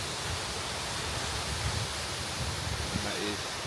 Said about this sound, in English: So the waterfall's flowing pretty well at the moment due to all the rain we've had recently